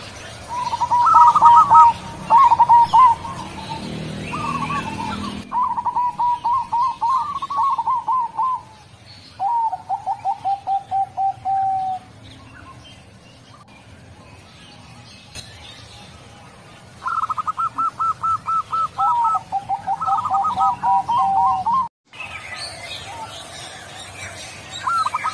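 Javanese doves in an aviary give repeated soft rolling coos in rhythmic bursts, several overlapping phrases with short pauses between, fairly close and clear over a quiet background.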